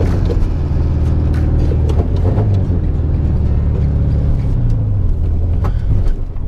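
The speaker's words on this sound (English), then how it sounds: "noise you're hearing right now is actually the speedometer cable" A car drives along with a steady engine rumble, over which a persistent mechanical whirring and ticking from the speedometer cable runs loud throughout.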